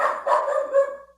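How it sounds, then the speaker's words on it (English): A dog barks close by in a quick run of several sharp, loud barks lasting about a second, with no voices over them. "Please, my friend, please stop barking."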